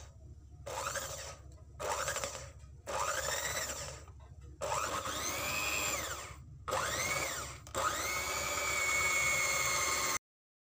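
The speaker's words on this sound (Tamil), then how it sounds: "இப்போ வந்து இத பீட்டரை வெச்சு நல்லா பீட் பண்ணிக்கோங்க." Electric hand beater whirring through butter and ground sugar for a cake, running in several loud bursts with short pauses before a long final run that cuts off abruptly.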